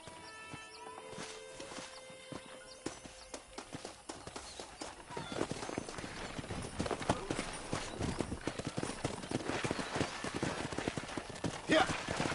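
Horse hooves clip-clop steadily in Red Dead Redemption, faint at first and then denser and louder as several horses move close by, with background game sounds and no speech.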